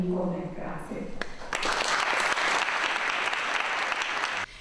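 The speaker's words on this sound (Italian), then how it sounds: "Un applauso" Applause after a minister's farewell speech at the Como city hall, where a brief stretch of talk gives way to a dense, loud burst of clapping from a room full of people that holds steady for about three seconds and then cuts off abruptly.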